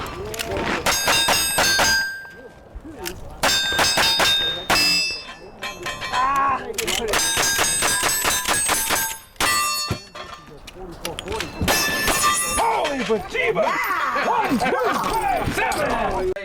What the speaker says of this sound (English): I went to Ben Avery shooting range north of Phoenix to watch an Arizona cowboy shooters match